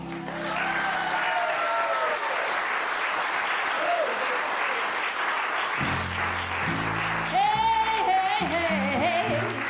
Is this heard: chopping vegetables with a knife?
no